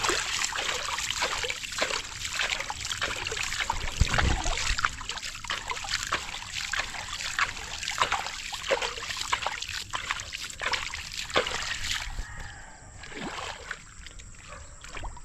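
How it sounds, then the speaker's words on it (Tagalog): Water trickles and splashes steadily into a flooded rice field for a long stretch, a soft continuous flow close by, then quiets toward the end. "Pabaha po, pabaha method po ang ating ginagawa."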